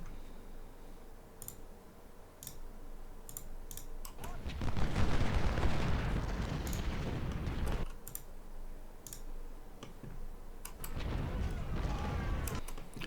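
Civil War cannon and canister fire in the strategy game Ultimate General: Civil War booms in two heavy rolling bursts amid scattered sharp clicks, loud and close with a brief lull between volleys.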